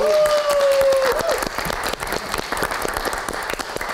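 Studio audience at the Midnight Live late-night comedy show breaks into dense, loud applause with a few cheers, sustained throughout, while a host's voice briefly carries over the opening moments.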